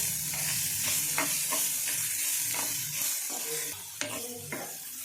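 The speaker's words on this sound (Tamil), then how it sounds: "வதங்கினதும் பொடியாக நறுக்கின 2 பெரிய வெங்காயத்தை அதோடு சேர்த்து வதக்கணும்." Chopped onions sizzle steadily in a hot pan while a utensil scrapes and stirs them in repeated strokes, with a light clink of metal near the end.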